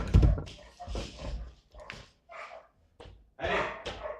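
Dogs bark and whimper in a fantasy online role-playing game, several short yelping bursts in an irregular series, fairly close and loud.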